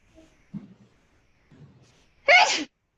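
A single sharp sneeze bursts out near the end, loud and close, after a few soft quiet stirrings, during a regalia-making workshop.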